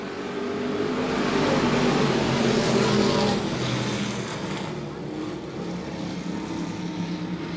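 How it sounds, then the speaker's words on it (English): Pure Stock race cars in a POWRi feature on a dirt speedway roar past together, a loud, steady wall of engine noise swelling and easing slightly as the pack moves through. "So we're going to see a lot of fast cars coming through the field here."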